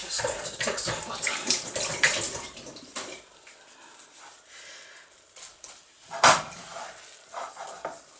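Water runs from a kitchen tap while oatmeal swallow is being cooked, a steady splashing rush for about three seconds, then fading, with a short sharp splash later.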